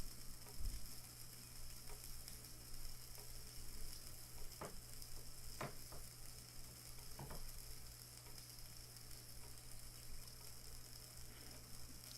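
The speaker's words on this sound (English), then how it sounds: "Let's listen to that sizzle" Food sizzling on an outdoor grill, a steady close crackling hiss with a few sharp pops and ticks, holding an even level throughout with no talking.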